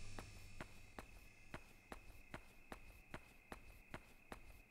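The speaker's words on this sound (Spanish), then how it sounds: "Me gusta que suenen grillitos por la noche." In the video game Yomawari, sharp, evenly spaced clicks or steps repeat about twice a second, with faint high cricket chirping running steadily underneath on a quiet night.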